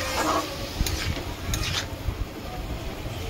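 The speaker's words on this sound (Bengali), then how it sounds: "খুব ভালো করে মিক্স আপ করে নেব। এইভাবে খুব সুন্দর করে নাড়িয়ে" A cumin, turmeric and salt mixture stirred in a pan, giving soft scraping strokes with a few light utensil taps over a faint steady background hiss, no talking.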